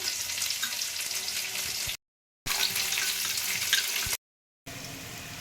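Water poured into a dark soy sauce mixture for veg manchurian: a continuous hissing, splashing pour that is cut by two brief silent gaps, with no speech.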